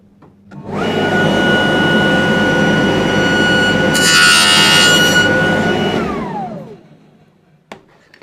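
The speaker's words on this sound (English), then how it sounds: "start the table saw, move this through very slowly and cut my first tooth" A table saw fitted with a grooving blade spins up loudly and hums steadily while wood is slowly fed through to cut a finger joint groove, with a brief harsher cutting burst midway before the motor winds down to silence.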